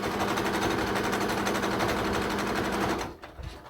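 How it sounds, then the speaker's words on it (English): A sewing machine runs in a fast, steady stitching rattle as it sews around the edges of fabric for a neck warmer scarf, close and continuous for about three seconds before stopping abruptly. "I am going to sew, we're gonna sew all the way around those edges"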